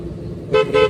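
Two short, loud car horn toots in quick succession during a driving lesson, following a low engine rumble.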